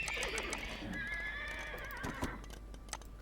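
Horses neigh and whinny in the video game Age of Empires 2, a close, clear high whinny with faint hoof clops beneath, set against a low steady background hum.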